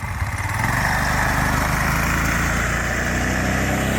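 A go kart's small engine fitted with a new quieter exhaust, a steady buzzing drone held at a constant pitch throughout, moderately loud and continuous, no talking.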